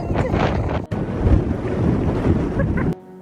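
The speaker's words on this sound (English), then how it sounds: "the wind is blowing even harder off the Atlantic" Strong wind blows in off the Atlantic on a steep coastal climb in Ireland. It roars and buffets the microphone in a loud, continuous rush with gusting surges, then cuts off abruptly near the end.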